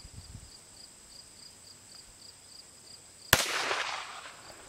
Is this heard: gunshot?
yes